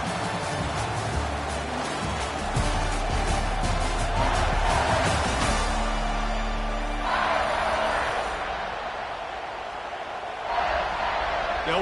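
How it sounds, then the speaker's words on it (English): Stadium crowd in the College Football 26 video game as the field goal unit comes out, a continuous roar with cheering and whoops rising and falling under commentary. "This crowd trying to do its part to get inside the kicker's head."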